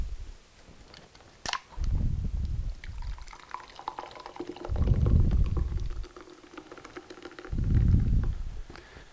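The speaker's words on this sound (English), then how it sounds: "That is the Red Bull suction pour, as I like to call it." Red Bull is poured in a flair bartending suction pour, three loud gushing bursts of liquid spaced a few seconds apart, with a brief sharp clink near the start and quieter trickling between pours.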